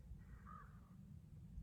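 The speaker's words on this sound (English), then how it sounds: "Crows are coming in." Crows caw once at a distance, a faint single call rising over steady low outdoor rumble during a dog leash-training session.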